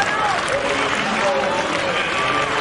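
A stadium crowd at the 2005 IAAF World Championships in Helsinki claps during the heptathlon high jump, a dense, loud, continuous wash of clapping with voices mixed in.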